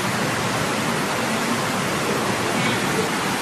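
Steady, dense rainfall hisses evenly and loudly throughout, with no break or change in intensity.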